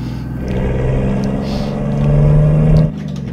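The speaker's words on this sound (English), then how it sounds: "This engine is just loud as hell." Heavy truck engine in American Truck Simulator hauling an oversize load, a loud steady low drone that builds into a rev near the end before cutting back, with no talk over it.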